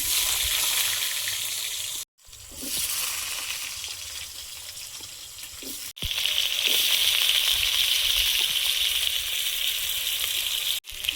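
Potatoes hit hot oil in a pan and fry with a loud, continuous bright sizzling hiss, briefly cut off twice by abrupt gaps before resuming just as strongly; no one speaks.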